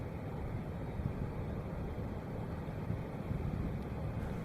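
The Great Lakes ore freighter Great Republic passes by as a steady, low broadband rumble with wind buffeting, a constant moderate drone without distinct events or voices.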